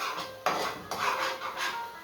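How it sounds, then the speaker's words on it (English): A spoon scrapes and clinks against a pan in a few repeated strokes, stirring garlic in butter, with a soft sizzle underneath. "we just continue to stir to get the flavor out of the garlic into the butter"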